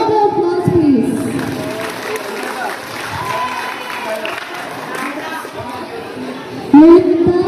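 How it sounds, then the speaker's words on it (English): A school audience at a student election rally claps steadily for several seconds, a dense crowd applause with chatter mixed in and an announcer's voice over it. "A round of applause, please."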